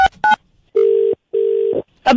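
A telephone being redialed: short dialing tones, then two long steady ringback tones separated by a pause, loud and close, with brief voice fragments at the start and end.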